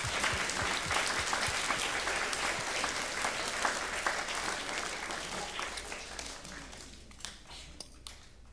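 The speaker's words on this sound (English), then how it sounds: "I think it's appropriate we give those folks a round of applause also." An audience at a 50th anniversary gathering breaks into a round of applause, dense clapping that stays steady for several seconds and then thins out toward the end, heard from within the room.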